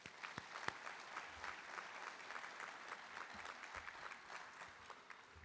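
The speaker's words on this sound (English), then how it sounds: "A round of applause for them as well." Applause from the audience at a high school academic achievement awards ceremony. Steady, fairly quiet clapping from a crowd continues evenly throughout, with a couple of sharper individual claps near the start.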